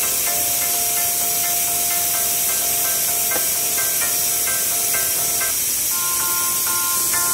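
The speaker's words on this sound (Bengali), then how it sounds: "আমি প্রেসারের ঢাকা বন্ধ করে দিয়ে 2টো সিটি মেরে নেব" A pressure cooker hisses steadily with steam while cooking a vegetarian broken wheat khichdi, a continuous loud spray of sound with thin whistling tones rising and shifting over it, heard alone and close.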